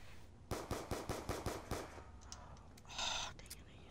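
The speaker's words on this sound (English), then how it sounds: "Oh, dang it, I used too many bullets." A rapid burst of about seven loud automatic gunshots rings out in the Call of Duty zombies map Die Rise, followed by quieter game sounds and a short electronic whir.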